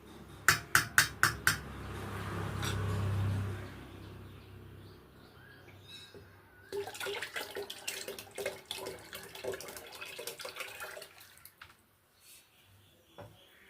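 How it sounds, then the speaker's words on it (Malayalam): Fertilizer mix for brinjal plants poured into a tenfold amount of water, giving a burst of sharp knocks, a low gurgle, then a stretch of close, uneven splashing and trickling before it trails off. "പത്തിരട്ടി വെള്ളത്തിലേക്ക് ഈ ഒരു വളക്കൂട്ടി നമ്മൾ ചേർത്ത് കൊടുക്കണം"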